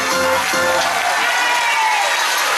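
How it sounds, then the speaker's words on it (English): A brief voice gives way to a burst of loud audience applause at a children's theatre show, dense and sustained, mixed with some cheering. "Give yourself applause."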